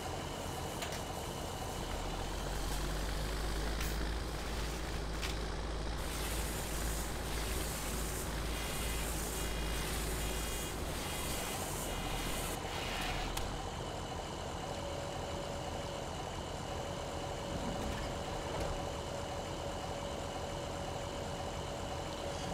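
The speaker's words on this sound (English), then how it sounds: "now I'm going to bring the truck over here and pick up these bales" A truck engine drones steadily in a farming video game, a continuous low idle-like rumble lasting the whole stretch, with a brief rise in activity and clatter before settling back to a smooth hum.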